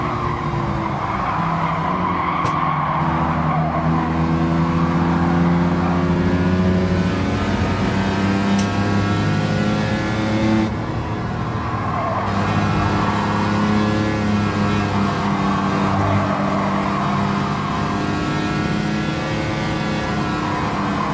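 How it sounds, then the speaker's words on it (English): A race car in the Gran Turismo 7 game revs loudly and steadily under acceleration, with tire squeal and skidding layered over the engine drone throughout, close and without speech. "Interesting engine sound too."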